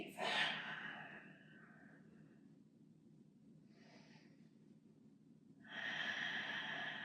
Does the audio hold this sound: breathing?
yes